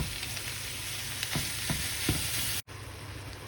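Meat frying with garlic and green chilies in a hot pan gives a steady, dense sizzle close up, with a few soft stirring clicks and a brief dropout near the end before the frying hiss resumes.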